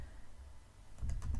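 Keys on a computer keyboard are typed while working in an Excel spreadsheet: a short run of soft, quick clicks arrives after a moment of near-silence, faint and close.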